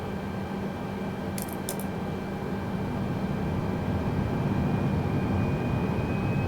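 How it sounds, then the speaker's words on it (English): Compressed bleed air from the APU of an Airbus A320 in Flight Simulator 2020 rushes as a steady, loud broadband hiss with a low rumble, holding level throughout with no talk. "when we hit APU bleed, listen to the noise as the compressed air rushes through the plane"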